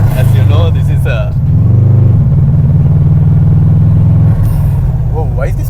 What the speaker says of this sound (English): this the exhaust never gets too loud inside